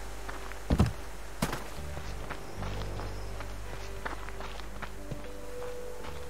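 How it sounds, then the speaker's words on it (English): Footsteps in the survival game Subsistence: a few soft, scattered thuds and taps spread over several seconds, fairly quiet against a low ambient hum, with no talking. "Thought I heard footsteps."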